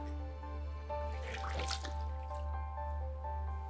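Fresh mountain water drips and trickles inside a deep former mine cavern, some 750 meters underground, with scattered close drips and splashes over a steady low hum.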